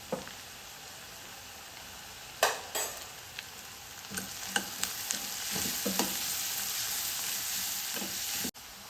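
Onion and garlic softening in a pan with green chilli and a pinch of turmeric for steamed snake gourd bhaji, a soft steady sizzle broken by scattered spoon taps and stirring scrapes, close and quiet, with no talking.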